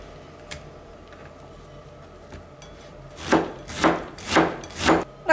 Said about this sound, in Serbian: pritom ću normalno i ovu glavicu kiselog kupusa izrezati što sitnije mogu